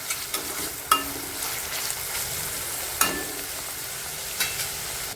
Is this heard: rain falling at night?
no